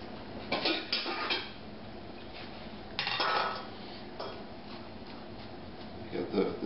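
A large spoon scrapes and knocks against the shell of a cooked spaghetti squash, loosening the flesh in short scratchy bursts with light clinks, close and fairly quiet.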